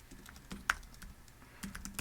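Quick taps on a computer keyboard entering a search term, a light irregular run of key clicks with one sharper stroke, close but quiet and without talk.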